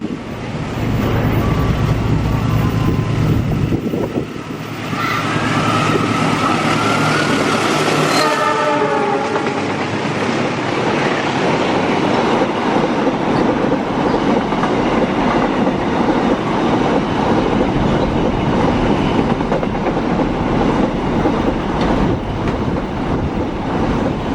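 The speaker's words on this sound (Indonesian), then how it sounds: "Namun mungkin keretanya kena susul oleh kereta barang ini di stasiun sebelumnya." A long freight train rolls through Klari station, loud and close. A horn blast sounds early on, followed by a continuous rumble and clatter of wagons passing steadily by.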